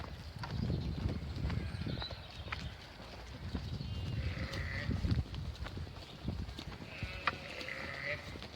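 Sheep out in a farm field give a few faint, short bleats amid rustling, shuffling and farmyard movement, while a person talks nearby.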